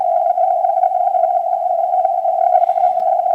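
An amateur radio station received on 14064 kHz comes through as a steady single-pitched tone with a slight warble, loud and clear over faint static, with no voices.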